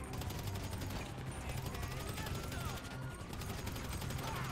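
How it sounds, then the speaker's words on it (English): Gunfire in GTA V Online, with sniper rifle shots mixed into a dense, continuous stretch of shooting and game noise; talk runs throughout. "Someone sniped me on the goddamn place."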